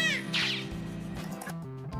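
A cat meows in a single drawn-out, moderately loud call with a tonal, wavering pitch, heard close and alone over a faint musical backing.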